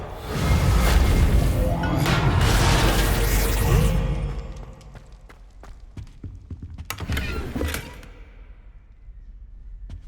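The Reparo repair spell in Hogwarts Legacy swells with a loud magical whoosh and rumbling rush for several seconds, then fades into scattered clinks and clatters as broken pieces settle back into place.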